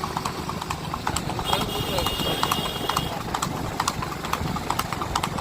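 Hooves of a Sindhi racing horse clip-clop in a steady fast rhythm at a rewal gait race in Anjar, Kutch, close and continuous, while someone commentates excitedly over it and an engine hums in the background.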